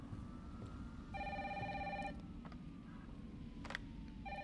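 In the Resident Evil 3 Remake video game, a telephone rings in two electronic bursts, thin and quiet, against a steady low background hum.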